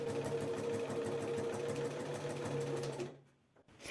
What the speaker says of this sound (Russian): Шить нужно на средней скорости, спешить не надо.